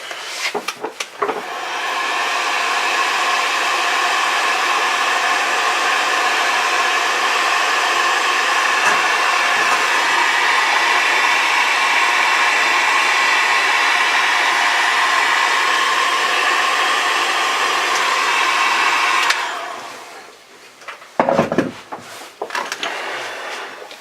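A heat gun blows a steady loud whooshing roar for nearly twenty seconds while shrinking wrap onto a Dodge 2500 headlight wiring harness, then shuts off, followed by a few handling knocks.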